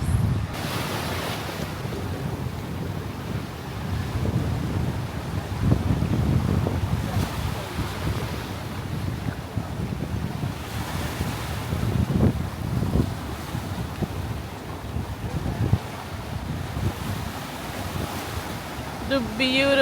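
Waves and steady wind roar at Strawberry Beach in St. Mary, Jamaica, with surf washing continuously and gusts buffeting the microphone throughout.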